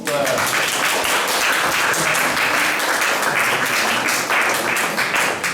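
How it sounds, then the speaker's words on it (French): Loud, dense applause from an audience at a children's book fair, continuous clapping throughout, close and full. "Vous pouvez les applaudir bien fort."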